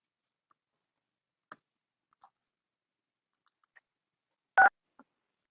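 Telephone keypad presses during a city council meeting call-in line, a few scattered soft clicks and short beeps with one louder tone near the end, set against silence.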